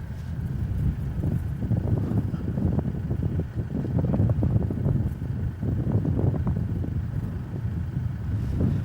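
A Boeing 787-9 rolling down a Melbourne Airport runway for takeoff, heard as a steady distant engine roar mixed with heavy wind buffeting on the microphone, continuous and without talk.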